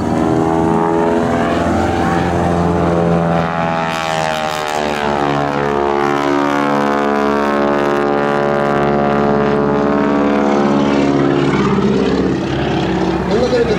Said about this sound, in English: Kirk rolling the airplane, looping the airplane with Chuck Tippett standing between the wings